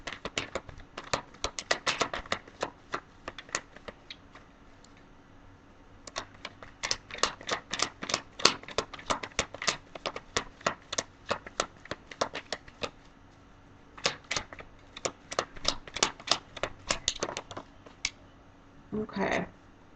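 Tarot cards shuffled and drawn by hand, giving quick bursts of crisp riffling clicks that stop and start in several runs, close and fairly quiet.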